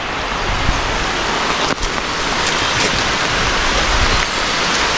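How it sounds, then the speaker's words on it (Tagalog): Steady heavy rain pours down in a dense, even hiss that runs unbroken throughout, with a few louder drops and splashes, and no voices. "Istorbo talaga itong ulan na ito."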